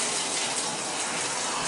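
Water is poured into a drinking glass in an apartment, a steady, fairly loud gushing stream that runs without a break for under two seconds, with no voices.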